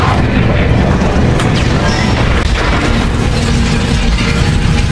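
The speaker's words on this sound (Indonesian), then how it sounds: "Setelah mobilnya meledak" A loud, sustained roaring rumble with bursts and crackles, like a large explosion and its aftermath filling the whole stretch.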